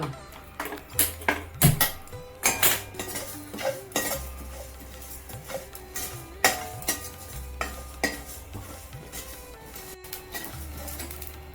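Coriander and cumin seeds roast dry in a pan for South Indian chutney powder, giving off a busy run of small sharp crackles and ticks mixed with utensil scrapes, fairly quiet and close with no voices.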